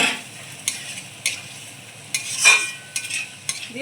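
Taro pieces and katla fish curry sautéed in a pan, with several distinct scraping stirs over a steady low sizzle, no voices.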